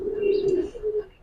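A Giribaz pigeon gives a single close, resonant coo that holds steady for about a second and then fades, alone and clear.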